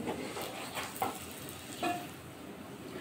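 Aloo paratha, a potato-stuffed flatbread, fries in a pan with a quiet, steady sizzle, broken by a couple of brief scraping or flipping touches.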